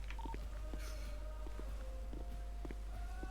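Phone keypad tones in the video game GTA, a quiet string of short beeps over steady low hum and faint footstep-like taps, with no speech.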